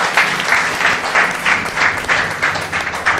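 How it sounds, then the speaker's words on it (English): A congregation at a gospel sermon gives a round of applause in a rhythmic, pulsing pattern of about ten beats, loud and close, with crowd murmur underneath. "You can give a round of applause to him."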